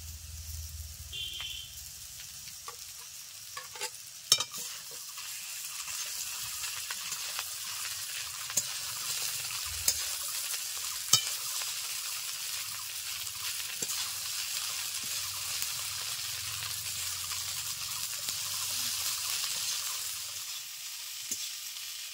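Soaked flattened rice (poha) stirred in a frying pan over medium heat gives a faint, steady sizzle, broken by occasional soft scrapes and taps of the spoon.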